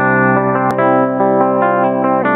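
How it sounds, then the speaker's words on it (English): An electric guitar runs as a clean DI signal with the PreSonus Studio One Ampire amp plugin bypassed, playing a sequence of sustained, plucked notes in steady succession, close and loud, with no talking. "That's a clean DI."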